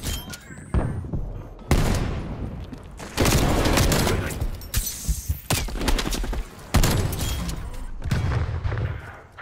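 Heavy hand cannon gunfire bursts from a video game, several loud booming shots in irregular bursts with brief quieter gaps between them.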